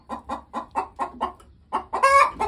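A broody hen clucks up close in a quick run of six or seven even, throaty clucks, then lets out a louder, drawn-out squawking cackle.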